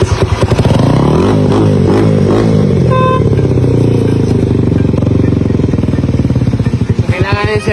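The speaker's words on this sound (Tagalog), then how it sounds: "So ayan, napaka-silent ang engine guys." A motorcycle engine runs loud and close, idling with a rapid, steady chug and rising briefly in light revs, with some mechanical clatter.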